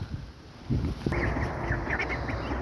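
Ducks quack in a series of short calls from about a second in, over a steady low background rumble, fairly close by.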